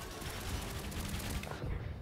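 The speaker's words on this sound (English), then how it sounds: "I already see the gunfire" Dense, continuous rattling gunfire from a video game naval battle with a stealth bomber, loud and unbroken like rapid bursts from several weapons at once.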